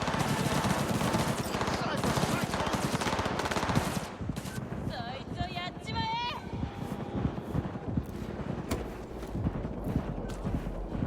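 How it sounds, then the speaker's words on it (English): Gunfire from a random street firefight in Cyberpunk 2077 Phantom Liberty, a dense rattle of rapid shots for the first four seconds, then thinner scattered game noise with electronic chirps. "It's just a random firefight."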